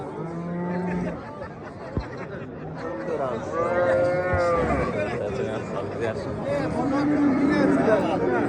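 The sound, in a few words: cattle mooing at livestock market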